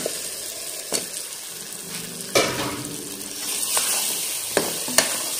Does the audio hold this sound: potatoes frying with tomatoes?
yes